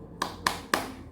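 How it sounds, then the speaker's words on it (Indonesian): Three sharp hand claps in a steady rhythm, close and fairly quiet, part of a spirited classroom clapping routine with no talking over them. "alangkah baiknya buat kita menambah semangat dengan tepuk-tepuk ya"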